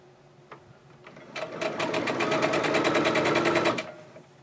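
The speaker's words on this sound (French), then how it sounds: "Alors, donc j'ai cousu tous mes petits éléments 2 par 2" A sewing machine stitches quilt block pieces together two by two, running in a fast, steady rhythmic burst of needle strokes that starts after a few faint clicks, holds for about two seconds and then stops.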